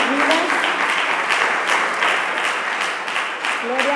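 A church congregation applauds steadily and loudly throughout a Friday service, with a few voices calling out over the clapping.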